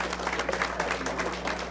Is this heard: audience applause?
yes